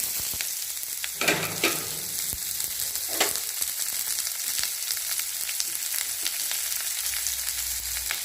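Mustard seeds, ginger, garlic and onion fry in hot oil with a steady bright sizzle, broken by a couple of louder hissing bursts as ingredients hit the pan, close up with no voices.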